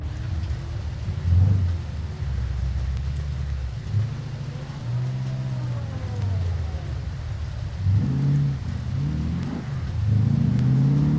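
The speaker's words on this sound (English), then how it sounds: "it's raining out" Steady rain in the BeamNG racing game hisses continuously alongside a car engine revving and shifting, its tone rising and falling throughout.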